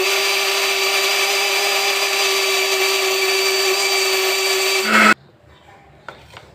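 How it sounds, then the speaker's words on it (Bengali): A kitchen mixer grinder runs loud and steady, blending a spice paste for home cooking, then cuts off abruptly near the end, leaving quiet room tone with a faint clink. "চলো একটু মিক্সিতে পেস্ট করে নিই।"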